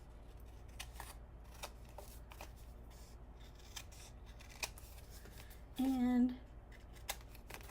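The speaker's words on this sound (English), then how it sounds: "let's go ahead and cut out that little square." Scissors snipping a small square out of paper for a card-making project, a few faint, scattered clips and rustles, with a brief spoken word.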